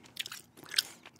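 Gum being chewed close to the microphone in an ASMR setting, a few soft wet crunchy bites spaced irregularly over about a second, quiet and alone with no talking.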